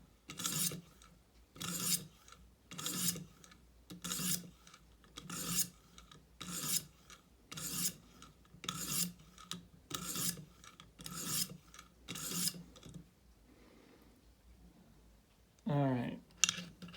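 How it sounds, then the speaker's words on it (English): Grass shears blade drawn across a 400 grit sharpening stone in forward passes: about a dozen evenly spaced close rasping strokes, then a pause and a short metallic scrape at the end. "I'm going to refine the edge a little bit with 400, just with forward passes, so I'm not recreating that burr."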